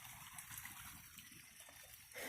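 Creek water trickles and burbles steadily outdoors on a morning walk, a soft continuous wash of flowing water with a brief louder splash right at the end; nobody speaks.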